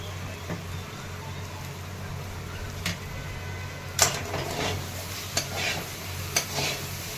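Spiced egg bhurji sautéed in a pan, a steady low sizzle with several sharp scrapes and clicks of a spatula against the pan, close and fairly quiet with no talking.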